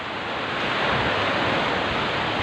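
Ocean surf at Mapak Indah beach makes a loud, continuous broadband roar of breaking waves, heard up close and alone.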